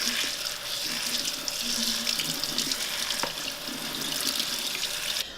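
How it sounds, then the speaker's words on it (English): Cold tap water runs steadily onto dried lentils in a strainer over a sink, a continuous close splashing rush with no talk. "You're going to rinse them with cold water."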